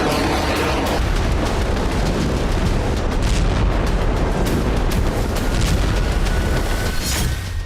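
A Minuteman III intercontinental ballistic missile launch, a sustained, loud, rumbling roar with booming, explosive texture that fills nearly eight seconds without letting up.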